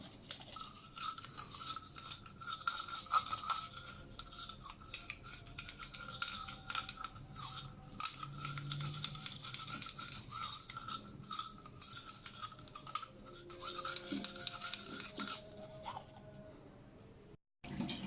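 Quiet, rapid scrubbing of a toothbrush with baking soda inside a kitchen tap, steady back-and-forth bristle scratching with faint watery clinks, close and low in volume.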